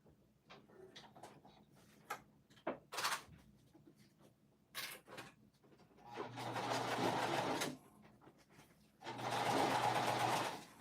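A sewing machine stitches a Dragon Hugo bag in two steady runs of about two seconds each, loud and close. Scattered clicks and handling noises of fabric and parts come before the runs.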